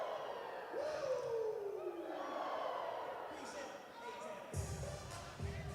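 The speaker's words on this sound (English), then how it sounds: "Everyone giving a little of the nature boy woos out in the crowd tonight." Indoor soccer crowd at a Harrisburg Heat versus Tacoma Stars arena match letting out a long rising-and-falling Nature Boy woo, followed by broader crowd cheering and a couple of thumps, with an announcer's voice in the mix.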